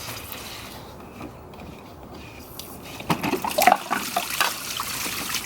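Water rushes and splashes from an Intex pool vacuum hose, quieter at first and then louder and choppier with gurgling bursts, continuous and close by.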